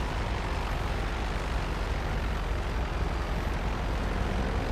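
Helicopter in the video game GTA Online, a steady loud rotor and engine roar holding constant throughout with no talk over it.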